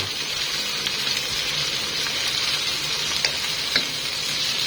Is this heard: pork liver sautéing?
yes